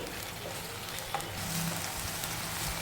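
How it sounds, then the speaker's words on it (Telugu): Onion with ginger and garlic frying in oil over low heat, a soft continuous sizzle with faint stirring, close and quiet. "ఇదంతా బాగా ఫ్రై అవ్వాలండి"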